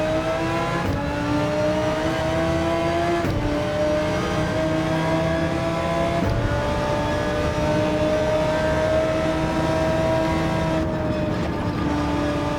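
An Audi R8 GT3 race car in Gran Turismo 7 drives with a steady, loud engine drone whose pitch climbs and drops through gear shifts, continuous and close throughout with no talk.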